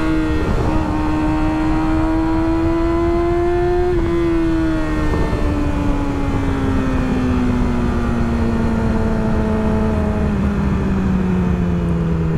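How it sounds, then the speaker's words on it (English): Engine of an RC4 motorcycle revving loudly and up close, a steady high drone whose pitch climbs, briefly shifts, then slowly winds down over several seconds with no talk. "I genuinely think the RC4 might be the best-sounding bike on Earth"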